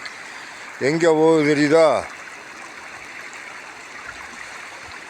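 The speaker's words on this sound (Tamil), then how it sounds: "அக்கராவரத்துலேருந்து நேர வைராவரத்துக்குள்ளே வருது தோல் ஷாப்பு தண்ணி" Tannery wastewater runs in an open stream from Akkaravaram into Vairavaram, a steady hissing trickle and rush heard up close. Someone speaks briefly over it near the start.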